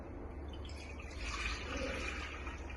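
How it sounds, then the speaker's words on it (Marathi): Tamarind water poured from a container into soaked ingredients, a soft, steady liquid trickle and splash throughout, fairly quiet and close, with no voices. "त्याच्यामध्ये आता चिंचेचं जे पाणी केलेलं आहे, बराच वेळ चिंच भिजत ठेवून त्याचं जे पाणी केलेलं आहे ते आपण त्याच्यामध्ये घालतो आहोत"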